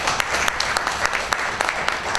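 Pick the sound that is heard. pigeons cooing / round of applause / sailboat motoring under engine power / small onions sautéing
round of applause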